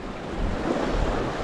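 Strong wind buffets the microphone on an open coast during bass fishing, a steady loud rush with surf-like roar underneath throughout.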